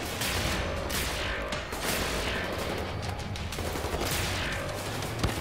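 Rapid bursts of automatic gunfire in the video game Wolfenstein: The New Order, loud and sustained, with dense repeated shots rattling through the whole stretch and short pauses between volleys.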